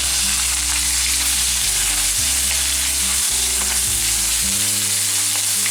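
Ginger fries in about two tablespoons of hot oil for a dried-red-chilli chicken dish, producing a loud, continuous close sizzle with a low steady hum beneath it and no voices.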